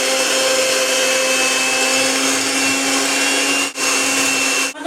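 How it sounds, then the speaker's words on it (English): An electric mixer whisks egg whites with cream of tartar, a steady loud whirring hum that runs without a break, close up, with only a momentary dip near the end. "Then I'm going to use a mixer and we are going to whisk this."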